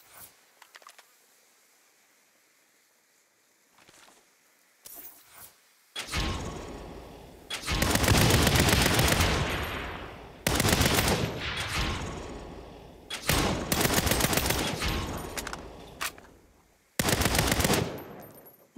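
Simulated gunfire at a shooting practice range in the Saints Row video game: bursts of rapid automatic fire in several loud volleys, separated by short pauses and a few isolated softer shots near the start.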